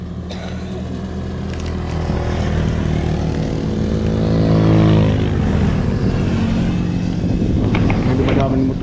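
A motorcycle approaches and passes nearby, its engine swelling to a loud peak midway and then falling in pitch as it fades away.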